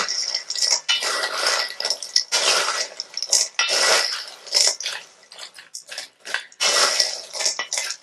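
Granola mixed with dried apple pieces is stirred in a container, a close, busy rattle of dry clusters with spoon clinks coming in uneven bursts separated by brief pauses.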